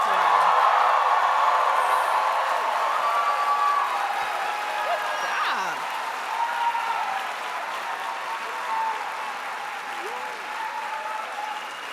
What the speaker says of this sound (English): So let's cheer for the Humphrey School class of 2024